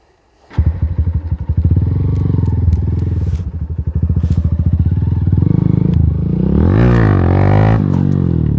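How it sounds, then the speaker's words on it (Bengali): A motorcycle revving hard as the rider pulls a wheelie, a loud close engine that surges and drops in pitch then climbs again, with rattling clatter and no talk. "তো একটু হুইলি করে দেখিয়ে দিয়ে এদেরকে।"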